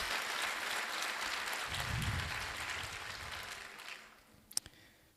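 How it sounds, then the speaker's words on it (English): Audience applause at a college graduation ceremony fills the hall as a soft, distant wash of clapping that gradually fades, ending with a few sharp stray claps. "Another warm applause, please."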